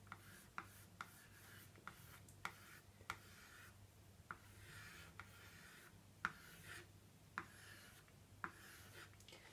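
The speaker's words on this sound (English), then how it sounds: "so I'll sketch something out" A pencil sketches on tinfoil in a faint, close scratching and rubbing, broken by sharp little ticks as the tip strikes the foil, over a low steady hum.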